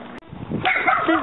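A pet dog named Coco barks and yips a few times in short close bursts, with a sharp click near the start and a voice mixing in briefly.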